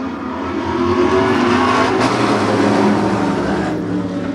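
Race cars at the 2022 Fall Fury event accelerate hard on a restart, a loud, steady engine roar filling the whole stretch without letup.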